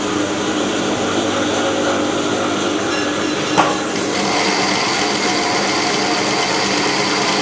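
Sewing machine stitching a two-lip pouch, running as a loud, steady mechanical whir throughout with a brief click partway, close up and without talk.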